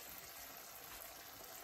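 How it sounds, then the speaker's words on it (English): Water is poured into a pan of prawn bhuna with peppers, giving a soft, steady pour alone with no talk. "I'm going to add a bit more water so it's not too dry."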